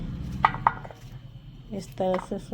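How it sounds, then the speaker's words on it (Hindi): A knife chops pumpkin into small pieces on a board, with a couple of distinct knocks early on and a quick burst of cuts near the end, alongside faint background clatter. "छोटे छोटे पीसेस में मैं काटूँगी तमाम कद्दू को।"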